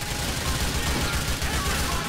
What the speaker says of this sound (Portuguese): é muito tiro